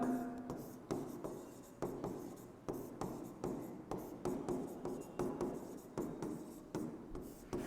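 Pen on paper writing out a definition by hand, with repeated short scratchy strokes and small taps in an irregular rhythm, close and fairly quiet with no talking.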